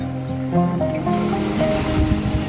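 Sea waves wash steadily against the shore by Kunkeshwar temple in Devgad, a constant rushing surf with low tonal sounds layered over it.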